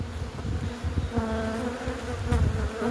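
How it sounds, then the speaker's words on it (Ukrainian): A close, steady buzz of honeybees, many wings humming together in a dense drone, with individual bees flitting nearer and louder now and then, at hives moved to a buckwheat field. "Дивіться, скільки тут бджоли."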